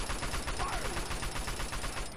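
Rapid gunfire rattles in Fallout 3, a dense run of repeated shots pulsing steadily for about two seconds at moderate level, with a faint high electronic whine underneath.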